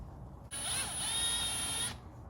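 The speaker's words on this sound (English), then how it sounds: "I'm drilling into my car." A power drill bores pilot holes into the plastic side skirt of a VW MK7 GTI during a side splitter install, giving one steady, close high-pitched whine of about a second and a half between quiet pauses.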